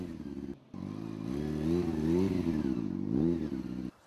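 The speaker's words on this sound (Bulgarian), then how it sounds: "Стънт райдинг означава каскадьорско каране на мотоциклет." A motorcycle engine revs steadily during stunt riding at a Bulgarian stunt competition, with a brief cut in the sound near the start, then rising and falling revs as the rider works the throttle, loud and close.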